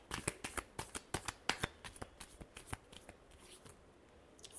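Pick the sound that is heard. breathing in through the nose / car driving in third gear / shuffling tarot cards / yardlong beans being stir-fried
shuffling tarot cards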